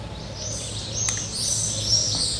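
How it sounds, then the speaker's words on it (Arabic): Sparrows chirp outdoors with quick high tweets scattered over a steady low background hum, moderately clear and uninterrupted by talk. "أصوت العصافير. أحب العصافير."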